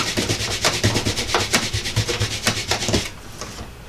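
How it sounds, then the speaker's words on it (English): A rubber stamp rubbed back and forth on paper while making a Christmas card, giving a steady series of dry, scratchy scraping strokes close up, fading near the end. "let me rub my stamp"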